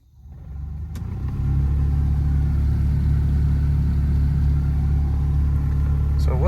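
Noisy blower motor fan in a 1986 Toyota pickup spins up from quiet to a steady, loud low rumble with a constant whir, heard close and alone.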